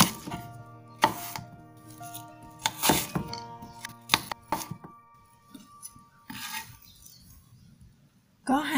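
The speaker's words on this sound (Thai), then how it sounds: "ก็จะหั่นเป็นชิ้นสี่เหลี่ยมเต๋าเล็กๆประมาณนี้นะคะ" A knife dices apple into small cubes for salad, giving sharp chopping thunks on a board in an irregular rhythm, fairly quiet and close, with someone speaking between cuts.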